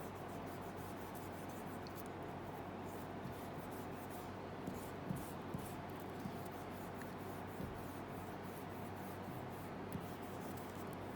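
Steady pencil scratching across paper as an art display is drawn, a soft continuous rubbing texture with a few faint ticks, close and quiet with no voices.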